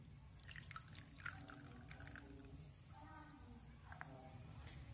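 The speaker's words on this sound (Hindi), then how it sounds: "अभी मैं इसका पानी जो है वो निकाल देती हूँ।" Water is poured off settled homemade potato starch, heard as close trickling and dripping with small splashes over a quiet room hum, no talk.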